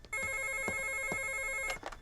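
A telephone rings in a quiet room, a trilling electronic bell with a few sharp accents, moderately loud and sustained for about a second and a half before stopping, with no talk over it.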